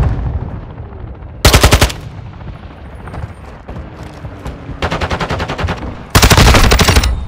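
Automatic gunfire in the video game Modern Warfare 2 multiplayer, three loud sustained bursts of rapid shots separated by quieter battlefield rumble and distant noise.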